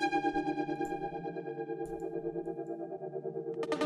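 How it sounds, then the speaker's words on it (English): A granular synth texture from the Klome plugin shimmers and wobbles continuously, layered and warbling, with a brighter swell near the end, moderately quiet and without voices. "It's the granular sound."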